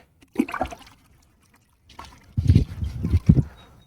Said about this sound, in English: Little dip in the water bucket, good as new.